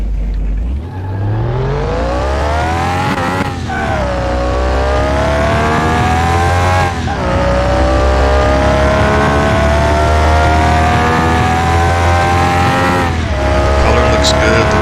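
A Nissan Skyline 2000 GT-R engine in Car Mechanic Simulator 2021 climbs steadily in pitch as it accelerates hard. Brief dips around three shifts are followed by the whine building again, loud and close for the whole stretch.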